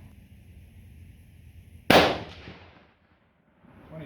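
A single loud rifle shot fires a .308 or 6mm load, a sharp close crack that decays over about a second into near silence before faint background noise returns.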